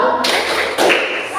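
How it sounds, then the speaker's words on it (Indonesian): A primary school class doing a rhythmic 'tepuk salut' clap, two bursts of many small hands striking together in quick succession, close and loud in a classroom. "Berikan tepuk salut."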